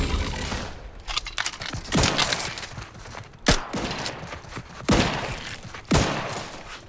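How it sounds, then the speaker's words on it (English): Gunfire in The Outer Worlds 2, a dense exchange of shots with several louder cracking bursts standing out at irregular intervals over a continuous rattle of weapons. "What are we shooting at?"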